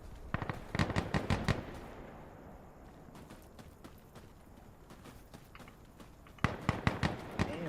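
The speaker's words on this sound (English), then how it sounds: "Stop shooting me!" Video game gunfire comes in sharp bursts of rapid shots at the start and again at the end, with quieter scattered reports and background noise in between.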